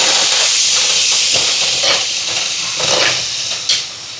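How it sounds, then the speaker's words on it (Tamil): Onions with ginger garlic paste sauté in a pan for a large outdoor cooking batch. A loud, steady hissing sizzle fills the space with faint stirring scrapes, and a sharper burst near the end. "இப்போ வெங்காயம் எல்லாம் வதங்குது பாருங்க."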